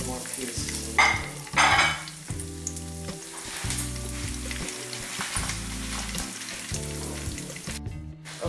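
Panko-breaded chicken pieces sizzle and crackle in a frying pan, a continuous hissing fry with brief louder bursts as pieces are moved, close and steady with music underneath.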